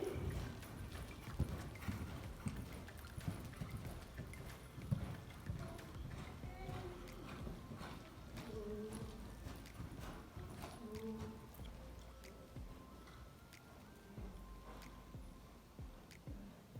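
Hooves clip-clop steadily at close range as a horse is ridden on a first trial ride, with intermittent talk and soft rustling over the rhythmic footfalls.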